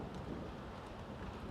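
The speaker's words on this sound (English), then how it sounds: "Probably hear the thunder coming out now." A low rumble of thunder rolls through a severe-weather storm, blended with the dense wash of rain, a brief and fairly faint stretch of steady noise.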